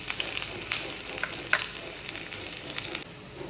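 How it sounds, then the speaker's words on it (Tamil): Sliced onions sizzle steadily in hot oil with mustard seeds, urad dal, cumin, fenugreek and a torn chili for sambar tempering, a constant bright hiss dotted with small crackles and pops. "ஒரு மிளகாய் கிள்ளி போட்டு வெங்காயத்தை போட்டு நல்லா வதக்கிக்கலாம்."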